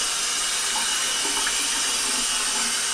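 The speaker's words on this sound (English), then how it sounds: "make sure your hot water is going." Hot water runs from a kitchen sink faucet, filling the sink for cleaning polisher pads with dish soap; a loud, steady, hissing stream continues without a break and with no voices.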